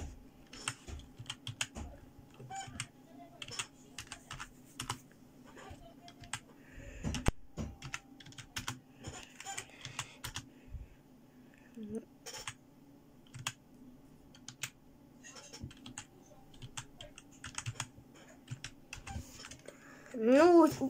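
Computer keyboard typing while entering a Minecraft 1.16.5 mod search, with irregular bursts of clicky keystrokes and pauses, close and moderately quiet, and a voice speaking now and then underneath.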